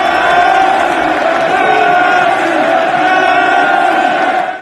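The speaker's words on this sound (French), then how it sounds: "la foule en délire qui scande ton nom" Large, excited sports crowd roaring and cheering in a sustained, loud wall of voices with whoops and shouts, steady throughout without a clear break.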